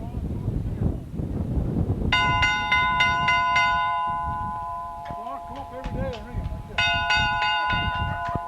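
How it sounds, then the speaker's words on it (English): Loud, close strikes of an old bell lacking its handle ring out in two bursts of metallic clangs with lingering tones, with voices talking over wind noise between them. "You can see the bell. It needs a little oil,"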